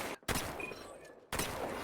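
Shotgun blasts in a mobile shooter game, two loud broadband bursts framing a quieter stretch, fired at close range.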